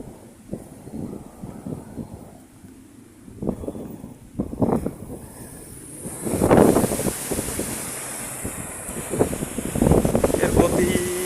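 A strong Kalbaisakhi storm wind buffets the microphone in loud, rumbling gusts that swell and surge, mixed with a person's voice.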